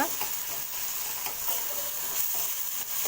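Tomatoes with ginger-garlic paste sauté in a pan, giving a steady close hiss and sizzle with faint stirring scrapes throughout and no talk.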